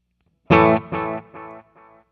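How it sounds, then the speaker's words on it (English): A single guitar note played through a Wampler Faux Tape Echo V2 pedal, followed by three echo repeats that fade in steady, evenly spaced steps, each quieter than the last, with nothing else underneath. "So here is the length of my echo right now."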